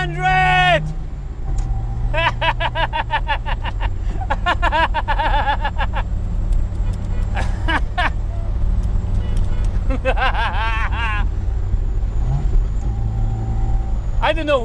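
A Lada 2103 drives at speed, its engine and road noise forming a constant loud drone inside the cabin while a person talks intermittently over it.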